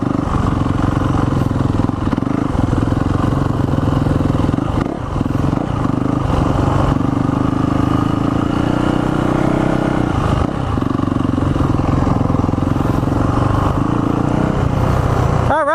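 A Yamaha motorcycle engine revs steadily and loudly as a child rides it up a hill, a continuous throttle drone with slight rises and dips throughout and no voices.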